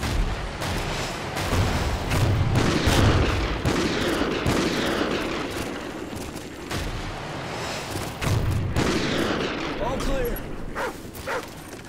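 Dense gunfire and explosions from the video game Call of Duty: Ghosts, repeated booming blasts and bursts of shots over about twelve seconds, with voices talking over the combat.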